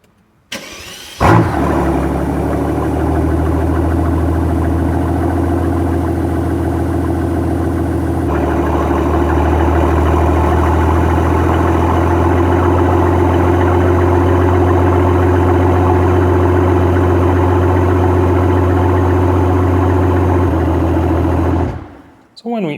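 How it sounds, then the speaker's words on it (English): Mercedes S65 AMG Coupé V12 engine idling loud and steady after a sharp start-up burst, a deep even rumble holding for about twenty seconds before cutting off. "So really this is a really brutal engine and the sound is just incredible."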